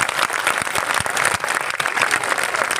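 A large crowd of anganwadi workers at a political rally with a BJP leader and former minister applauds loudly, a dense, continuous roar of many hands clapping at once, close and unbroken.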